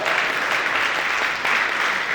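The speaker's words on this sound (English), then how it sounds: "Let's give a round of applause for Diana." A dense, loud round of clapping from an audience gathered at a boxing weigh-in, a steady sustained burst heard nearby with no talking over it.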